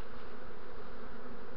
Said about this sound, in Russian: Пчела, земля, трава, это вокруг кусты позаросшие, все в пчелах.